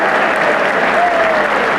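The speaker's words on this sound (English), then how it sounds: "Great applause there from the crowd" A crowd at a 1988 snooker tournament applauds warmly, sustained and fairly loud clapping from many spectators filling the hall, with no voices heard.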